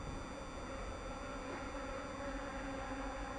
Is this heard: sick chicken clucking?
no